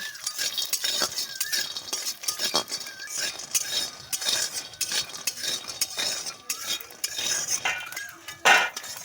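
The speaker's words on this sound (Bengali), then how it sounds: "এটা আমি ডালের বইটা দিয়ে দিলাম একটু ভেজে নেওয়ার জন্য" Dried lentil bori fry in oil in a kadai, a faint sizzle beneath frequent metallic clinks and scrapes of a utensil stirring against the pan.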